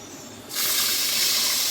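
A loud hiss bursts up suddenly as water hits a hot pan, then holds as a steady rush of steam.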